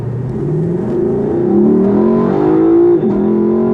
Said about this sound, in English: Pretty outstanding sound of the exhaust, isn't it?